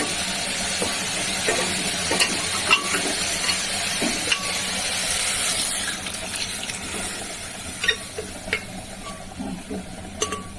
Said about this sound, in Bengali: ধুয়ে দিই পাতাগুলো